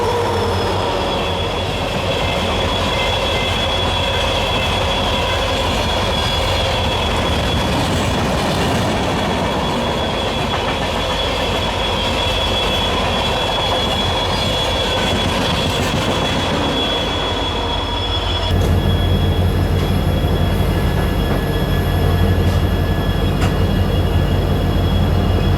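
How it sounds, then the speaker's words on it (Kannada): Bengaluru–Karwar Panchaganga Superfast Express, train 16595, runs on with a steady close rumble and wheel squeal; the noise jumps abruptly louder and harsher near the end, with no voices. "train number 16595 Bengaluru Karwar Panchganga super fast express"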